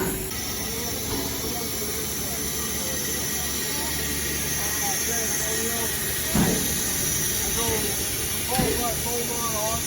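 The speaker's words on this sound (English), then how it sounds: "It is a steam locomotive, unlike the Amtrak locomotives we normally take" A Durango & Silverton steam locomotive hisses steadily and loudly, with a broad rushing steam sound that continues without a break. Voices talk quietly underneath, and a couple of knocks sound during the hiss.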